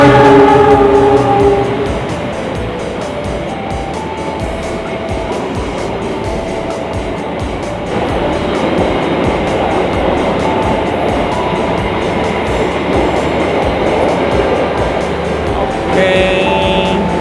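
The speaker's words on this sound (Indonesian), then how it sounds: "Nah, ini kereta api Lodaya mau lewat nih." The Lodaya executive train passes through Cibatu station in Indonesia, loud and close, with a steady rumble and rhythmic wheel clatter on the rails after a brief horn-like tone at the start.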